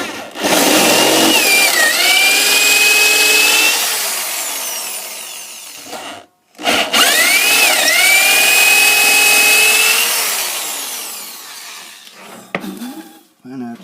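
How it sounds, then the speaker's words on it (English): A power drill bores a half-inch hole into the wood of a Gibson ES-345 guitar in two long, loud runs, its motor whine dipping in pitch as the bit bites, with a brief pause between. "And I'll use the new drill bit."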